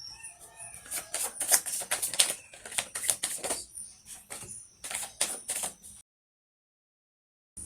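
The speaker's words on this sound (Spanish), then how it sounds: "Ahora vamos a barajar las cartas de profundización para la carta del talismán" A deck of tarot cards is shuffled in quick, crisp riffling bursts over about six seconds, then stops into silence.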